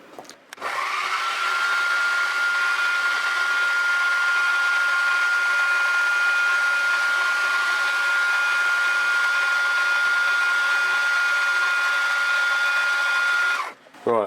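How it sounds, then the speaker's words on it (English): A small lathe or mill machining the face of a miniature petrol engine part: a steady, loud, high-pitched whine runs almost unchanged for about thirteen seconds, starting and stopping abruptly, with no talk over it. "I'll machine the face off and yeah, we'll take it from there."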